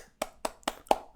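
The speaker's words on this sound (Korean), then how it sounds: "박수를 치십시오." Hands clapping: five sharp, evenly spaced claps in about a second, close and distinct against near silence.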